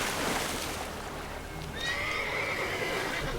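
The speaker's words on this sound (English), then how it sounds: "I don't know why I called the horse" Roach the horse in The Witcher 3 gives a loud, close neigh, a shaky whinny trailing off, over wind-like outdoor ambience and faint hoof clip-clop.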